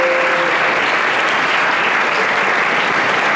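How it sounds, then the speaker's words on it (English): Loud, sustained applause from a lecture audience, a dense unbroken clapping that holds steady from start to finish. "and one more round of applause"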